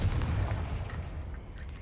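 A Confringo blasting spell explodes in the Hogwarts Legacy video game, a deep low boom that swells at the start and rumbles on as a sustained loud roar.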